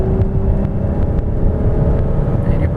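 A 2002 Ford Taurus SE engine pulls hard under heavy throttle, a loud, steady low roar with road and wind noise filling the cabin throughout.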